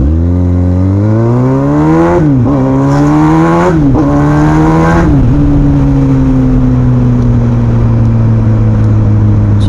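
A 1000cc motorcycle engine revs hard and climbs through the gears, pitch rising, dipping at each quick shift, then holding a steady loud drone close by with no talk.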